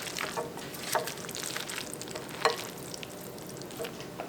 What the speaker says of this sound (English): Let's combine this cooked pasta with spinach with the seasoned cheese mixture